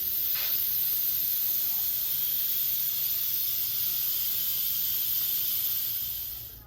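Steady broadband hiss of steam venting from an Instant Pot pressure cooker as it builds pressure while cooking beef stew, continuous and fairly loud with no talk, fading out at the very end.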